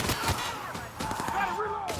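Short burst of gunfire in The Outer Worlds Spacer's Choice Edition, several sharp shots in quick succession under a shouting voice, close and moderately loud.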